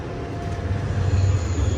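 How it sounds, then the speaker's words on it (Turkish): A YHT high-speed train pulls away and runs near Ankara, giving a steady low rumble of wheels and carriage that builds slightly in loudness, heard from inside the train with no talk. "Hızlı tren kalktı."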